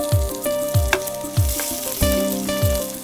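Chopped onions sizzling steadily in hot oil in a pan while a vegetable cutlet is cooked, with a bright continuous hiss and rhythmic stirring knocks recurring about every half second, close and fairly loud.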